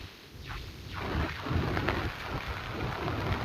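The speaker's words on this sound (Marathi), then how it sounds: "प्रचंड असा पाऊस भोर तालुक्यात पडतोय." Heavy monsoon rain pours down in Bhor taluka near Pune, Maharashtra, a steady dense wash of rainfall with low rumbling swells, moderately loud and continuous with no voices.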